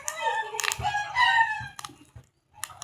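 A rooster crows nearby in one loud, drawn-out cock-a-doodle-doo with a harsh rising and falling tone, followed by short clucks and a faint second call after a brief quiet gap.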